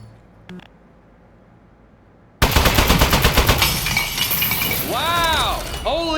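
A turret shot up in Aperture Desk Job: after a quiet stretch, a sudden loud burst of rapid gunfire mixed with crackling, shattering impacts, then warbling electronic chirps as the barrage continues.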